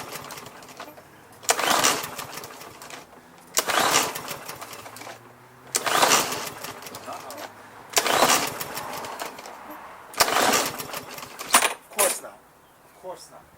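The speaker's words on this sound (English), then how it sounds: "now we're going to give it a good rev" A Troy-Bilt lawn mower with a Briggs and Stratton engine and plastic carburetor revs up in four loud, rising bursts about every two seconds, each dropping back to a rough idle between.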